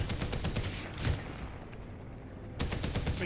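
Soviet BTR guns fire in War Thunder as rapid bursts of automatic gunfire, one burst in the first second and another near the end, with a quieter lull between them.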